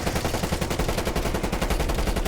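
Rapid, loud video game gunfire scoring headshots, a dense run of close shots firing in a fast, steady rhythm.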